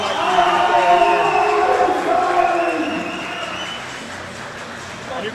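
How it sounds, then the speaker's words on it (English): A crowd at an outlaw deadlift competition roars and cheers loudly and continuously for a well-known lifter's max-effort pull, the noise staying dense throughout and easing slightly toward the end. "the crowd are going crazy for him"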